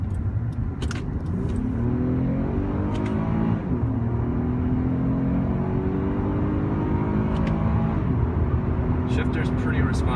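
Acura TL pulling away under acceleration, the engine note climbing steadily as gears rise, heard from inside the car, loud and continuous, with a person talking over it.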